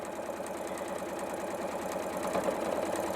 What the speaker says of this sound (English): I'm going to start sewing where I've got my pin, and I'm going to sew to within 1/4 inch of my corner